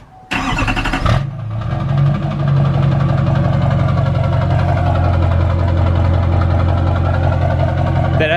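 A Duramax L5P diesel pickup fitted with an S400 turbo kit starts up and settles into a loud, steady, rumbling idle close by.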